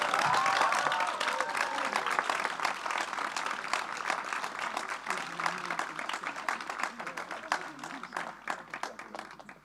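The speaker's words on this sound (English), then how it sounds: "Please give a round of applause to my best friend and our latest change makers, Noemi." Applause from the audience at a graduation ceremony: sustained clapping from a crowd that starts strong and gradually thins out into scattered claps, with a voice audible early on.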